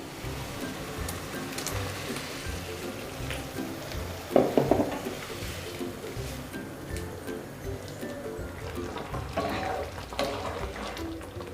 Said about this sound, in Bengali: ভেজে রাখা বেগুনগুলো দিয়ে দিলাম।